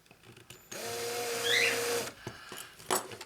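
A small power drill whirs for about a second and a half, close up, drilling into the rivet of a Hot Wheels toy car, with short clicks and handling noises before and after.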